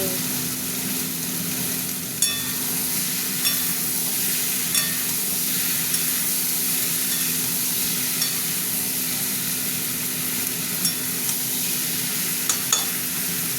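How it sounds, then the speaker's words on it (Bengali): Pieces of elephant foot yam and potato fry in hot oil, a steady, close sizzle and hiss with occasional sharp ticks from stirring. "এবার আমি ওল আর আলুটা দিয়ে দিলাম, ভাজবো।"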